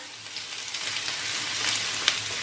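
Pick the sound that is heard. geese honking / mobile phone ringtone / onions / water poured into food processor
onions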